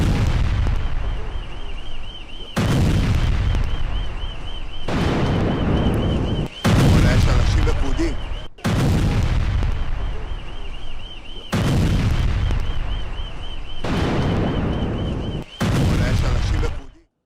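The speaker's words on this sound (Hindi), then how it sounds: "ईरान ने इजरायल पर मिसाइल अटैक किया है।" Heavy explosions and booms from an Iranian missile attack on Haifa, Israel, repeating in loud, powerful bursts every couple of seconds, with a steady siren-like wail running beneath them.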